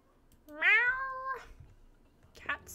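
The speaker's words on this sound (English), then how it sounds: "Cat screams." A cat's drawn-out, rising then steady yowl in the video game Dishonored: The Knife of Dunwall, loud and near for under a second, followed by a shorter second cry.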